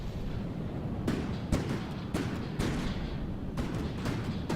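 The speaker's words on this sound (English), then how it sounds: "All the cannons are firing." Cannons firing in a Warhammer video game battle, a run of sharp booming blasts at irregular intervals over constant low rumbling battle noise.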